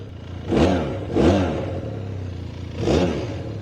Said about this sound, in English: A little buzzy when you rev it